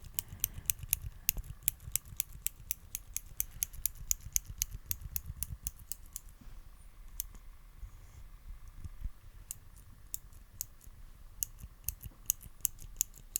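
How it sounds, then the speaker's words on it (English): Rapid, crisp clicks repeat in quick bursts, close and dry, with a short quieter pause partway through before the clicking resumes. "click this pencil"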